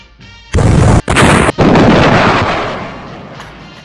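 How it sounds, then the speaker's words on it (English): Sudden loud explosion with two or three heavy blasts in quick succession, followed by a long rumbling roar that slowly fades, close and overwhelming with no talking. "Explode!"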